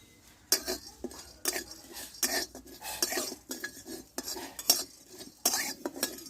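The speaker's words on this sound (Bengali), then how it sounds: "এই কড়াইয়ে কয়েকটা গোলমরিচ গোটা জিরে আর হাফ চামচ মতো পোস্ত আমি এটা শুকনো খোলায় ভেজে নিব" A metal spatula scraping and stirring peppercorns, cumin seeds and poppy seeds in a dry wok, in rhythmic rasping strokes roughly once a second, close and without sizzle.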